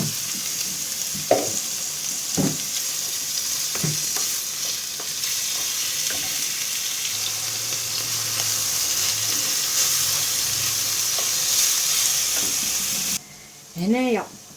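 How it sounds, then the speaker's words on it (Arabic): Chicken breast pieces and chopped onion fry and sizzle in a pan, a steady broad hiss lasting most of the stretch, with a few stirring knocks early and a short squeal-like sound near the end. "هنايا عندي صدر تاع الدجاج قطعته هكا اوندي، نقليه مع هذا البصل"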